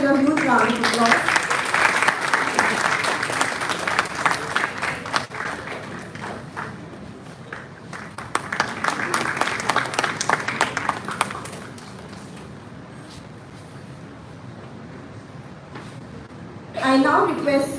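Audience applause at a university ceremony honouring the President of the Society of Indian Law Firms, loud and steady for about eleven seconds, then fading into quieter room noise before a brief burst near the end.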